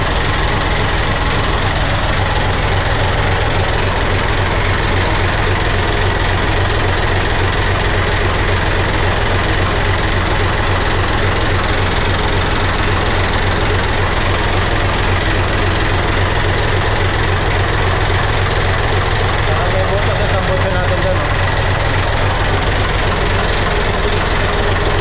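A boat's engine runs continuously at close range, a steady low, throbbing drone with a knocking pulse that holds unchanged for the whole stretch.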